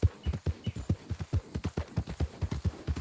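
Horse hooves clip-clopping in Red Dead Redemption 2, a steady, even trotting rhythm of close, distinct hoofbeats continuing throughout, with no voices.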